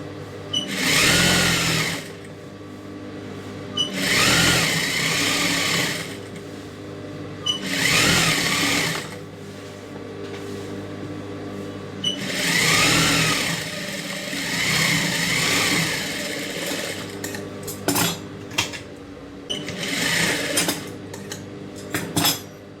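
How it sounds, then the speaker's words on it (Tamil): A sewing machine runs in repeated bursts of a few seconds each while stitching a double seam on a silk skirt, with brief pauses between runs and no voices. "இப்போ அதுமாதிரி இன்னொரு டபுள் தையல் போட்டுக்கலாம்"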